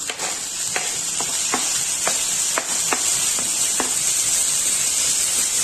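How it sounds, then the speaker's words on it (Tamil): Chopped tomatoes sauté with onions in a pan, giving a steady loud sizzle and hiss. A string of short, regular scraping taps from stirring sits near the mic, and no one talks. "இப்ப தக்காளி நல்லா சாஃப்ட் ஆகிற அளவுக்கு வதங்கட்டும்."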